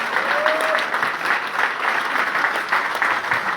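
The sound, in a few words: audience applause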